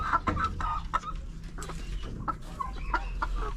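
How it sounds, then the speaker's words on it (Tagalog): Chickens, breeders and four-month-old birds penned together on a farm, give repeated close clucks and short calls in quick irregular bursts over a low background rumble. "ayan bali nagsama na dito yung ano mga breeder ko saka yung mga 4 months old na manok"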